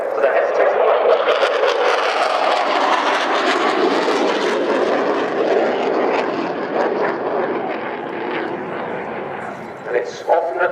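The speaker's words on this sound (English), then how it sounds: "So we're stepping down to 350 knots for the F-16." An F-16 fighter jet flying past at the Royal International Air Tattoo air show, a loud, sustained engine roar that slowly fades, with a commentator talking over it.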